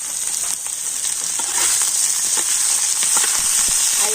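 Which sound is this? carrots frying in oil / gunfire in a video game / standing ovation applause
carrots frying in oil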